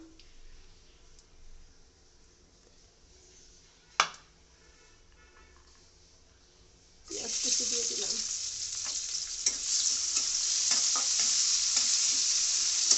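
Onions frying in oil in a pan after fish has been fried, a soft sizzle that jumps to a loud, steady hiss partway through as more ingredients hit the hot oil, with occasional stirring clicks.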